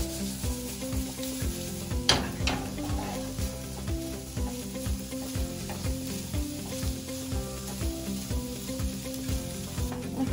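Broccoli sautés in a pan for a frittata, a strong, close, steady sizzle with occasional stirring clinks and scrapes over a low background hum.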